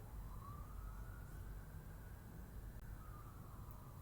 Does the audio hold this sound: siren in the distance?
yes